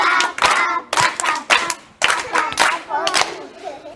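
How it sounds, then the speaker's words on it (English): A group of people clap for a boy on a Ugandan children's TV programme, in loud, close bursts of hand clapping separated by brief pauses. "Can you clap for him?"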